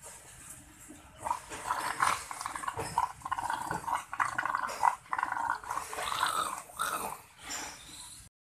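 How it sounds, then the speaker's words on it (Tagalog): A white English Mastiff growls low and rumbling in a string of uneven bursts, close to the microphone, with faint whimpering mixed in and no talking. "Jhon, the English Mastiff."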